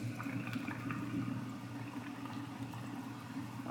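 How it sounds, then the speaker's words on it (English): Continuous low bubbling and gentle sizzling of steak cooking in a pan, steady and fairly quiet with no talking. "Nice bubbling mess."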